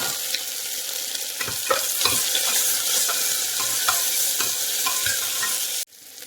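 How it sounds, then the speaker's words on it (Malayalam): Onion, ginger and green chilli fry with salt in a pan, a close, continuous sizzle broken by repeated scraping stirs before it cuts off abruptly near the end. "സവാളയും ഇഞ്ചിയും പച്ചമുളകും നമുക്ക് ഇട്ട് കൊടുക്കാം ഇതിലേക്ക് ആവശ്യത്തിനുള്ള ഉപ്പും കൂടി നമുക്ക് ചേർത്ത് നല്ലപോലെ ഒന്ന് മൊരിച്ചെടുക്കാം"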